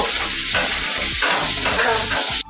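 Fish frying in a pan gives a loud, constant sizzle and crackle of hot oil, with a few soft stirring scrapes and a brief clatter at the very end.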